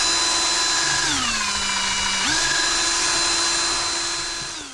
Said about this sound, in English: So I just did what I could with the drill here,